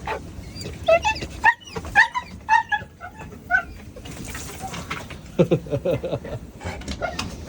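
A dog whimpers while being bathed, giving repeated high, wavering whines and short yips in uneven bursts, close and fairly loud, with a quieter stretch before lower whimpers return.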